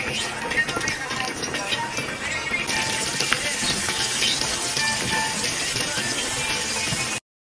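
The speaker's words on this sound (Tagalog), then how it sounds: "Ito na, oras na para sila ay iprito." Pork chops coated in a soy sauce mixture deep frying in hot oil, a steady dense sizzle and crackle running unbroken and fairly loud throughout.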